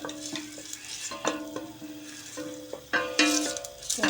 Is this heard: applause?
no